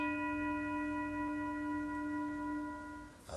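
One low bell tone rings out steadily with layered overtones, sustaining for a few seconds before fading, followed by a faint knock at the end.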